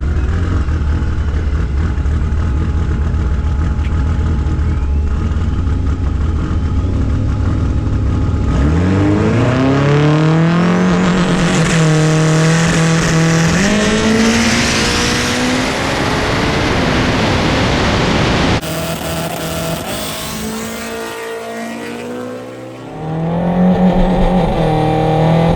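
A drag race car at a no-prep event roars loud and close, its engine revving and accelerating with rising pitch, then shifting and surging again in a continuous, unbroken howl.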